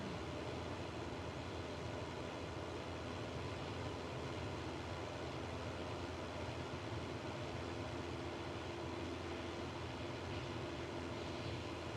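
A plane's engine drones steadily in flight in Microsoft Flight Simulator 2024, a constant dense hum with a faint tonal whine, unchanging and without speech.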